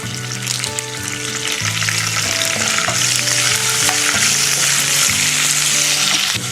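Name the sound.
curry leaves frying in pan for instant upma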